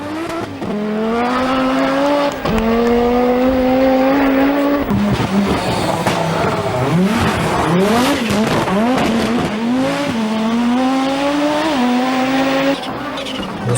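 An Audi Quattro rally car's turbocharged five-cylinder engine revs hard and loud, pitch climbing and dropping through gear changes, with a burst of rapid throttle blips midway and some tire squeal.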